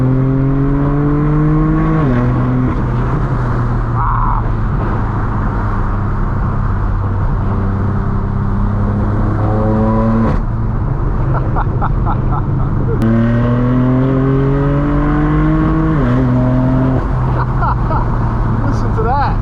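A straight-piped BMW M4 F82 roars loudly through repeated rising revs and gear shifts, the harsh exhaust climbing and dropping in pitch from close up during a mountain drive.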